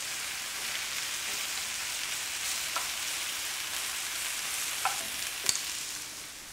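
Garlic sizzling with softened onions in a frying pan: a steady, close crackling hiss throughout, broken by a few faint clicks and pops near the end.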